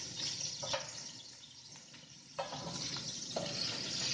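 Ginger paste is stirred into golden-brown frying onions for a chicken kabsa, with a continuous hot sizzle and several distinct scraping strokes of the spoon against the pan.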